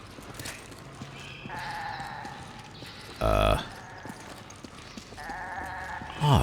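A goat bleats in a lab area of Resident Evil 5, with wavering cries early and late, a short loud thud in the middle and a constant low game ambience underneath.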